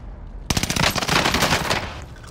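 Automatic gunfire bursts out in a Fortune's Keep quads match of Call of Duty Warzone, a sudden loud rapid volley of shots lasting about a second and a half before trailing off.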